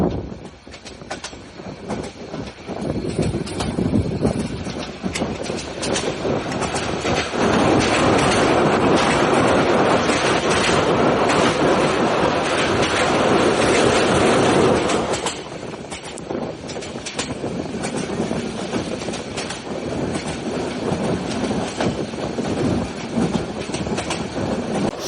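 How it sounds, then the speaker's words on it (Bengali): A container train hauled by a 3000 series locomotive passes on a double line, loud rumbling and clattering wheels swelling close by for several seconds, then easing to a steadier roll. "আমাদের সাথে ডাবল লাইন ক্রসিং হচ্ছে চট্টগ্রামের সিজিপিওয়াই গামী কন্টেনারবাহী ট্রেনের।"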